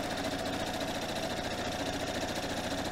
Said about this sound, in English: So I'm sewing 1/4 inch down.